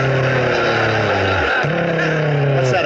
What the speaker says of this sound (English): That's supposed to be a motorcycle.